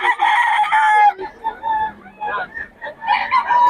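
A rooster crows loudly and close at a Filipino fowl market, the first call long and strained, followed by shorter crows and clucking from several birds.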